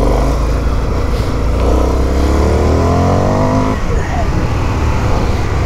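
An Indian motorcycle engine pulls hard under acceleration, its rising revving pitch sweeping upward over several seconds before dropping back, loud and close throughout.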